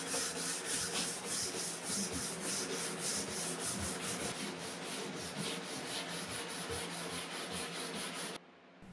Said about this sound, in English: Then I put liquid on, and then I started scrubbing with the wire brush.